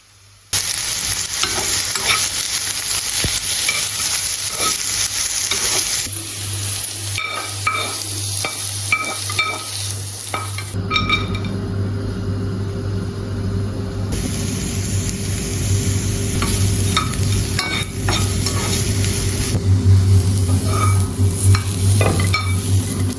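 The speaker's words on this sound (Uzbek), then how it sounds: "Keyin baland olovda boya to'g'rab olgan masalliqlarimizni 2 minutdan qovurib olamiz." Chopped bibimbap vegetables stir-fried in a pan over high heat, a loud, steady close sizzle with scraping and stirring clatter throughout, with no talking.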